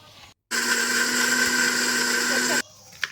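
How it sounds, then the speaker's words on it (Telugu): A mixer grinder whirs steadily as tomatoes are ground into a smooth paste for chicken pulusu, a loud continuous motor drone lasting about two seconds and then cutting off abruptly. "పేస్ట్లా మిక్సీ పట్టుకోవాలి"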